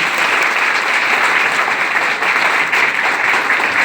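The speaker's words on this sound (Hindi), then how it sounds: "एक बार दिल से जोरदार ताली बजाइए।" Dense, steady applause from an audience filling a hall at a speech event, continuous and loud throughout with no break.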